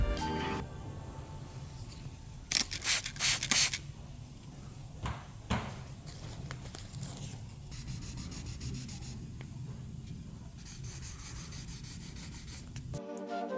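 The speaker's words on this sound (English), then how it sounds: "I've then gone over them with 2000 grit sandpaper, which has left this finish" Close, intermittent rubbing strokes as 2000 grit sandpaper smooths touched-up stone chips on the paint of a McLaren 570 GT, with a few louder scraping bursts between quieter passes, and no talking.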